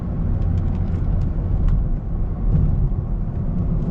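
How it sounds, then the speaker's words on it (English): A 2009 Honda City engine revving under way while driving, a steady loud low rumble of engine and road noise that swells and eases slightly without pause, heard from inside the car with no voices. "So the engine does get a little vocal at the higher revs, but yes, sounds quite sporty"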